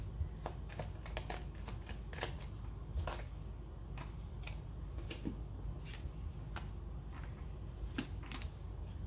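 Tarot cards being shuffled by hand at a table, a repeated run of crisp riffling flicks and slaps spread across the whole stretch, close and fairly clear, with no talk.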